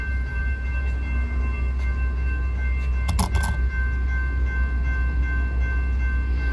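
An Amtrak train rolls past a railroad crossing as a loud, continuous, close rumble with steady tones over it and a brief sharp burst partway through.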